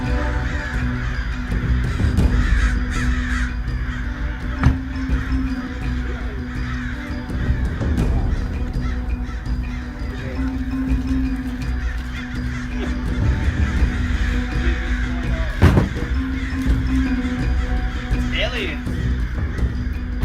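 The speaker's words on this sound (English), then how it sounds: "A swarm of crows surrounding some kind of unusual object." A large flock of crows caws repeatedly and overlapping, harsh calls coming from several birds at varying distances, loud and continuous with no pauses.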